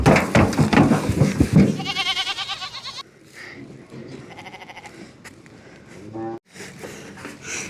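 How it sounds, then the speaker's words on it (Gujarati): A male goat bleats several times in quick, wavering calls, close and fairly loud, then the sound thins out into quieter scuffling and a few faint further bleats. "આ બકરો તો મારા પાણીમાં પડી ગયો"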